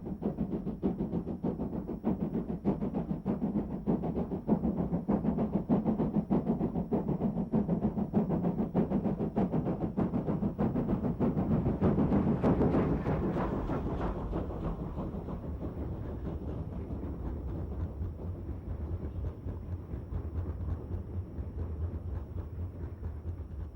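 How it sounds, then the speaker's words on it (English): A South African Class 15F steam locomotive works the scenic Turfentine branch line, its rhythmic chuffing and rumble loud and steady at first, then easing into a softer, continuous drone as it moves off. "A 15F working the scenic Turfentine branch at the eastern end of the RPM system"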